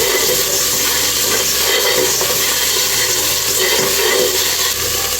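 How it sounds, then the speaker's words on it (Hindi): Garlic paste sizzles steadily in hot oil in a home kitchen, a loud, continuous hiss with faint stirring scrapes throughout. "जो मैंने गार्लिक पेस्ट बनाया हुआ था वो मैंने इसमें ऐड कर दिया, और इसको अच्छी तरह से हम हल्का सा लाइट सा ब्राउन करके पका लेंगे"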